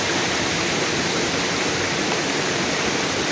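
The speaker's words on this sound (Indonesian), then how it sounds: "Tuh lihat, ini aliran air curugnya" Water from the Curug Kutu waterfall rushes steadily into the Cikondang river, a loud, dense, unbroken roar close by with no voices over it.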